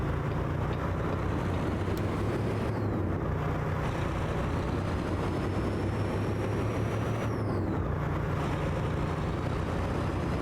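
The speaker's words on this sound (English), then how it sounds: "for a SCS default engine, it doesn't sound that bad" Kenworth T680 truck's default engine in American Truck Simulator, a steady loud diesel drone and rumble with faint shifting whines, continuous and close, no talking.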